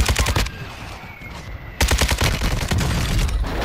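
Video-game gunfire in Call of Duty Warzone: close, loud bursts of rapid automatic shots, a short pause, then more sustained firing.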